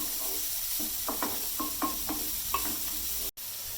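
Grated carrot sautéing in a pan, a steady sizzle with soft scraping stir strokes at irregular intervals, close and alone, cut by a brief dropout near the end.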